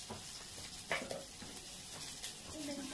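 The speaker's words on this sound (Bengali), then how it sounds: "রুমের মধ্যে গ্যাসে ভাজা হচ্ছে" Food frying on a gas stove in a home kitchen, a soft steady sizzle with faint stirring clatter and utensil taps, distant voices murmuring in the background.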